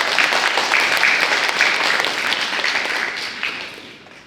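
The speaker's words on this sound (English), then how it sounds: "Let's give another round of applause" Sustained applause from an audience at a youth climate action summit panel on green school innovation, a dense, steady clapping that holds strong for several seconds before beginning to taper off near the end.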